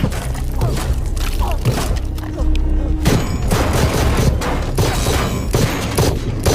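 Gunfire in a film action scene sounds as a loud, dense fusillade of shots and booms, continuous and chaotic, filling the whole clip with no clear talk.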